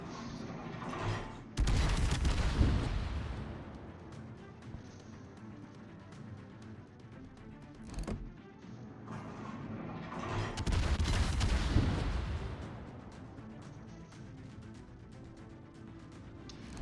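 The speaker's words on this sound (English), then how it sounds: "Good range with these guns, because typically on normal American cruisers, these 8-inch guns normally only go out to about 15 kilometers." Tier IX battleship Illinois fires its 8-inch guns in World of Warships: two heavy booming salvos with rumbling tails, separated by a quieter stretch and a short sharp report between them.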